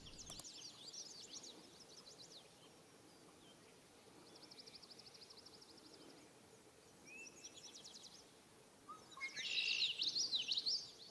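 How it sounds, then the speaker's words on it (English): A red-winged blackbird calls several times at a pond, in bright trilling bursts, one faint and far off and the last louder and nearer. "Red-winged blackbird."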